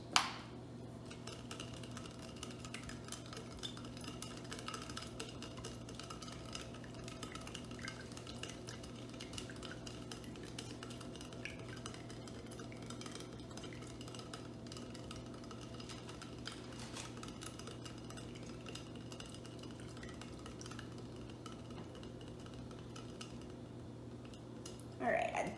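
Solid being stirred into water in a glass beaker during a solubility test, with a steady, faint clinking and swirling that runs on evenly over a low background hum, and no voices.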